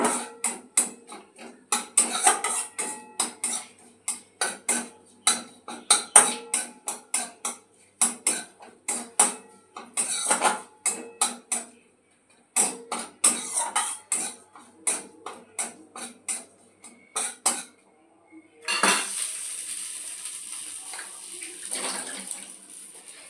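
A spatula stirs a spice tempering with turmeric in a pan, scraping in quick, fairly loud repeated strokes with short pauses, followed by a sudden steady hiss and sizzle near the end.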